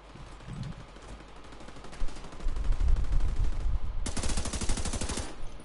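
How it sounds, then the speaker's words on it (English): Gunfire in The Division 2 during a raid, with rapid automatic bursts rattling steadily and growing louder, ending in a sustained close volley of fast shots. "Firing on targets."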